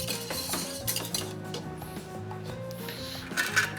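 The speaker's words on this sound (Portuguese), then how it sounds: "Então vou misturar bem aqui para derreter todo esse queijo" A spoon clinks and scrapes steadily against a pan while stirring cheese sauce to melt the cheese, close and continuous metallic rattling with a faint background music tone, no talking.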